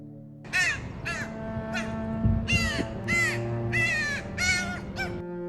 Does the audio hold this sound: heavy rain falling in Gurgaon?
no